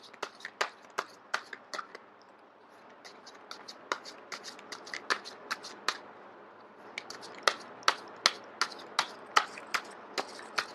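Tarot cards are shuffled by hand in a steady run of crisp slaps and riffles, with a short pause partway through before the shuffling resumes.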